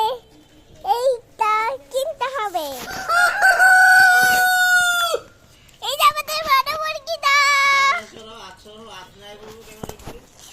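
A rooster crows loudly and close by, several drawn-out calls with shorter squawks between them and a voice heard briefly.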